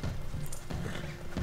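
Horse in the Red Dead Redemption 2 video game, with quick clip-clop hoofbeats at a brisk trot under a steady game background, close and fairly loud over a short stretch.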